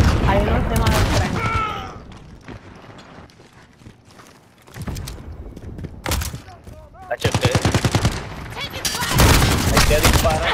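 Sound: gunfire in video game Call of Duty: Modern Warfare

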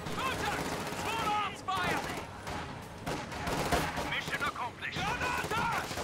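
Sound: half track gunfire suppressing infantry in video game

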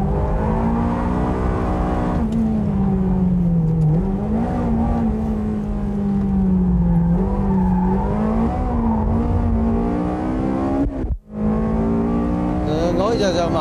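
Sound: Ferrari 360 engine revving while driving

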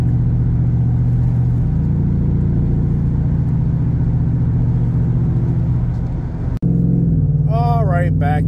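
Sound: Ram race truck driving on the highway

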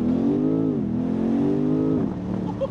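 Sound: petrol car engine revving with downshift blip

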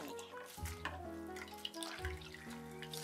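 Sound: running tap water for rinsing dried radish peels

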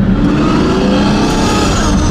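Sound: supercar engine revving

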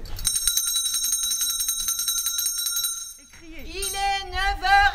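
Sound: bell being rung by a visitor

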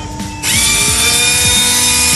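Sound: power sander starting on Ford Mustang brake calipers

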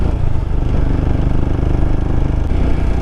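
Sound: Royal Enfield Himalayan motorcycle engine making abnormal noise

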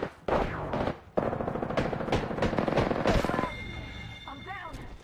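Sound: gunfire in Apex Legends video game

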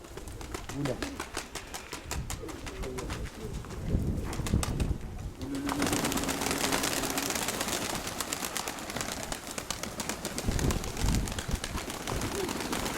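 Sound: pigeons cooing

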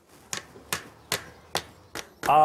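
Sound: hammering a nail

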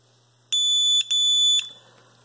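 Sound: RFID furniture lock beeping after reset button held

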